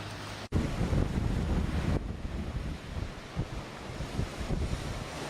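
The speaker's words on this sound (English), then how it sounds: "The wind's blowing out, so the waves aren't really coming in." Steady wind buffets the microphone over the rumble of surf at Daytona Beach, with offshore wind flattening the waves, a continuous roaring wash with no voices.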